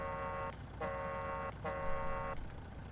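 American truck horn in Farming Simulator 19, sounding three loud sustained honks of about half a second to a second each, separated by short gaps over a steady engine rumble.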